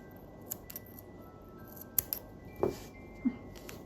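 Scissors snip through knitting yarn at close range, a few quiet crisp clicks and cuts spread over a few seconds against a low, hushed room background, with no talking.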